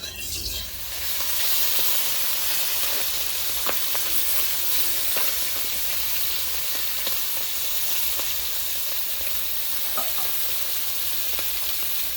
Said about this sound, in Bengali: আমি তেল দিয়ে তোমার মাছটা ভালো করে ভেজে নিব।